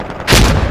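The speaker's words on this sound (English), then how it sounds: "Grenade out! Careful, it's bouncing out!" A grenade detonates in the tactical shooter Insurgency Sandstorm: a sudden, loud, close blast that roars on for about half a second after a quiet start.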